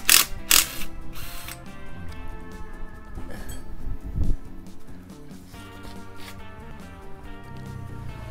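A ratchet wrench loosens a screw inside the casing of a Yamaha 125Z motorcycle, giving quick metallic clicking and ratcheting runs with some clinks of tools, close and fairly steady, over low workshop hum.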